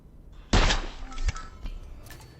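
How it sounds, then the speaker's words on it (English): A sniper rifle shot in the video game Hitman 2, a single sharp loud report with a brief thudding tail, followed by a few fainter knocks and clatters. "we're going to shoot Janus in the head"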